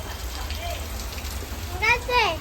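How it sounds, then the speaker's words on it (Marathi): Heavy rain hisses steadily outside throughout with a low rumble underneath, and a voice chirps briefly near the end. "पाऊस चालू जोरात चालू आहे बाहेर"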